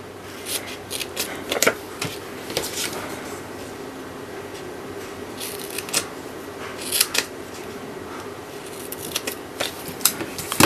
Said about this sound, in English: I've cut some strips of designer series paper up